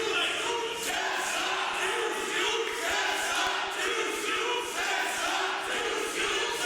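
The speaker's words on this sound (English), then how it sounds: "Listen to the crowd here, Brad." A large wrestling event crowd roars and cheers steadily throughout, a dense, loud wall of voices with rising swells, no single speaker standing out.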